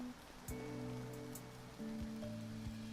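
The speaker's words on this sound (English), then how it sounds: "all this rain." Steady rain hiss in the video game Shashingo, a soft continuous patter with a few brief drip-like accents, alone over quiet tonal game music.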